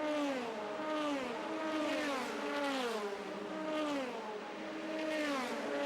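DTM touring race cars circulate at Hockenheim in 2001, several engines wailing and rising and falling in pitch as they pass in a slipstreaming pack, loud and continuous with no talk.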